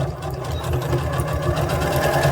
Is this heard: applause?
no